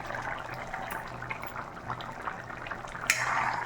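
Cluster beans and french beans boil in a pot for sambar, bubbling and simmering in a soft continuous burble, with a brief sharper clatter or splash near the end.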